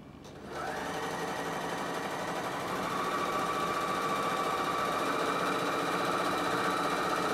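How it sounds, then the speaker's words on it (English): A Bernina sewing machine runs at 1.5 stitch length using thicker thread, starting up and then holding a steady, close mechanical whir and hum throughout. "And you can sew straight off the end."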